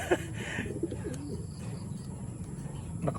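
A large pet pigeon, a banloon, coos softly and close by in a quiet room, a few low throaty calls with faint background sounds.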